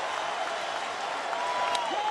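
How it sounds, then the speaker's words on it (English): Baseball stadium crowd cheering and applauding during a Detroit Tigers game as Galarraga pitches, a broad, steady roar of applause and voices that swells slightly toward the end, with a faint whistle near the close. "Here comes the crowd now"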